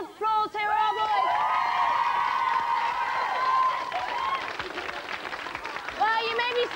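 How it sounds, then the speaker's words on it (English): Late-night television studio audience applauding and whooping, a loud sustained burst of clapping and cheering with a voice calling out over it near the start and end. "big round of applause"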